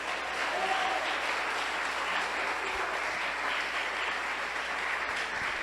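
A church congregation claps steadily and densely through the whole stretch at an even, fairly loud level, with no voices standing out.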